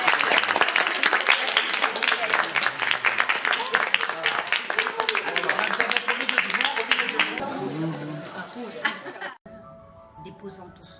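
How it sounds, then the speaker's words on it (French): Students in an audience in Lecce, Italy, clap in sustained dense applause for several seconds before it stops abruptly, leaving quiet room sound. "Allez, je vous demande qu'on applaudisse."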